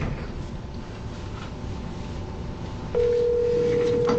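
A phone on speakerphone plays a steady tone that begins partway through, continuing over a dull background rumble with no speech.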